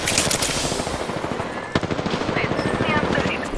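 Rapid automatic gunfire in a first-person shooter video game, a dense continuous burst of close, loud shots with one sharper crack midway, playing alone without talk.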